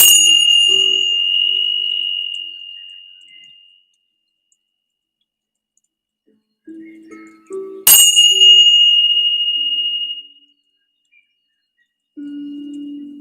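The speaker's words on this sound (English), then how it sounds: "I'm just ringing my bells to clear my space," Ringing bells struck to clear a space, two bright metallic strikes about seven seconds apart, each leaving a long shimmering ring that slowly fades, with a softer chime near the end.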